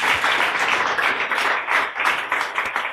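An audience applauds steadily at a sports talent showcase event, a dense, continuous patter of many hands clapping at moderate loudness for the full stretch without talk.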